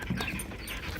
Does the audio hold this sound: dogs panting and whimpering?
yes